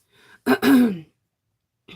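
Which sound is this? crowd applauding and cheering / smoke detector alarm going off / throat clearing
throat clearing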